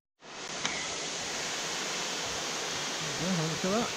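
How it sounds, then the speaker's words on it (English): A steady, broad roar from the Betws-y-Coed waterfalls fills the clip from start to finish, dense and unbroken, with a voice briefly rising over it near the end. "Waterfalls in view."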